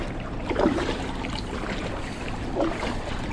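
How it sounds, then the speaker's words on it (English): Kayak paddling on water near a barge in the Bronx, New York City: two soft paddle splashes spaced about two seconds apart over a steady wind and water wash. "let's paddle between the barge and the land and check this place out"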